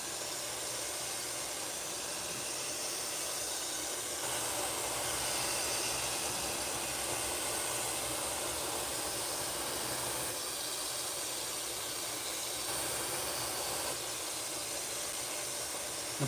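A paint spray gun lays custom wild-style patterns over gold holographic flake, giving a steady close-up hiss of atomized air that runs on with a few short dips and restarts.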